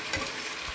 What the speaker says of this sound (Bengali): মশলাটাকে আবার কষিয়ে নেব। দেখুন ভালো করে কষিয়ে নিলাম।